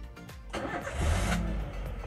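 A used Toyota Avanza/Xenia engine is started, a cranking burst rising into a steady low running hum that swells briefly, close and moderately loud with no talk.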